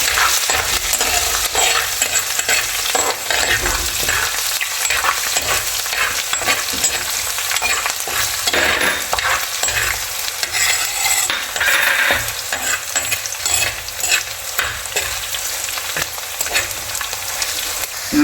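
Onion, garlic, ginger, green chili and shallots fry in a pan for kurukku kaalan, giving a loud, continuous close sizzle with occasional scraping stirs and utensil clinks.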